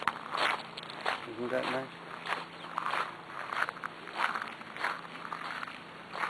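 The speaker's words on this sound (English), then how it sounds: "You can hear the sound of my feet in the gravel." Footsteps crunch on gravel paths in palace gardens, a steady walking rhythm of soft grinding steps heard close, while a person speaks briefly over them.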